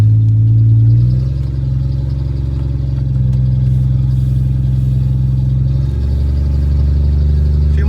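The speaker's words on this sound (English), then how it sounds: "Seems like it's taking off in second gear." A truck engine pulls away in second gear, a steady low mid-range drone with a shift in pitch around a second in and again near six seconds, loud and close with no talking.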